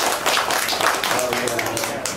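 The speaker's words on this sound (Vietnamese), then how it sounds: "xin hai họ cho tràng vỗ tay một cô dâu rất là xinh đẹp" Wedding guests at a Vietnamese bride-fetching ceremony applaud the bride, a dense steady patter of many hands close by, with voices chattering over it throughout.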